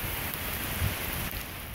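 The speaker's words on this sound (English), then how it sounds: "The rain started up again." Heavy rain falls on a mangrove-fringed beach during a camping trip, a dense, loud, steady hiss of downpour that fills the whole stretch without a break, close and unbroken, with no voices.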